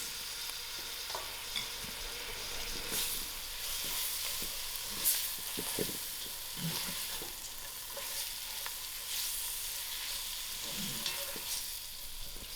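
Boiled sheep tripe fries in masala with a constant close sizzle and spitting, broken by scattered pops and occasional stirring scrapes, with no voices.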